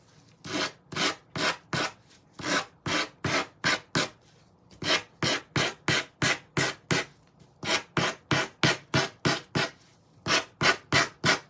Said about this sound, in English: let me sand the edges on one so we can get a better idea